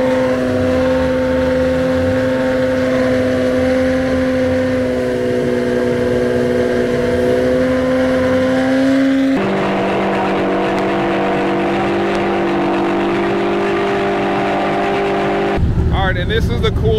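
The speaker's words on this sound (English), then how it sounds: "all the drift cars are started up right now" Formula Drift cars at an Atlanta event sit idling with engines started, a loud steady layered drone of multiple engines nearby, shifting in pitch as some rev and cars begin lining up, with someone talking over it.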